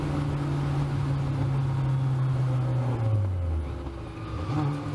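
Caterham race cars at Pacific Raceways, their engines holding a steady droning whine before the pitch drops as they pull away, with a continuous roar of track noise behind.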